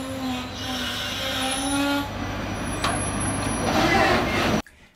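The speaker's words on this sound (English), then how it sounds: "We see a heavily spray-painted two-car electric multiple unit and another M88 unit arriving at the single platform" A heavily spray-painted two-car Circumetnea electric multiple unit pulls into a single platform in Sicily, with a steady rumble, squealing wheel tones and a brief hiss near the end, close and loud until it cuts off abruptly.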